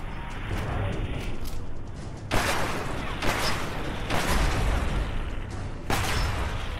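Gunfire in the video game Fallout 4 comes through as several sharp, booming shots spaced a second or so apart over a constant hissy background, loud and close, with no voices.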